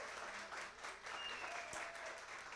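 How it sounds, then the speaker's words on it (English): Audience at a Science Cafe talk on sneezing applauding the speaker, a soft, fairly distant wash of clapping that holds for a couple of seconds. "Let's give him a round of applause."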